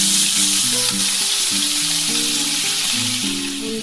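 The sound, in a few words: parshe fish frying in hot oil in a wok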